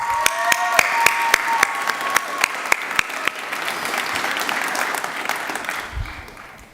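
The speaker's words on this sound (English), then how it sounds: "we need to give these people a round of applause" Audience applause at a 2016 high school graduation ceremony, a dense wash of clapping with a few sharp, close claps standing out before it fades away near the end.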